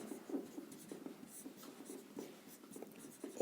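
A pen scratches across paper in steady, close strokes while someone works through a Class 10 maths problem, a quiet continuous scribbling with short pauses.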